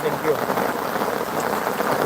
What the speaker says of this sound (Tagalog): Ayan, lumakas yung ulan.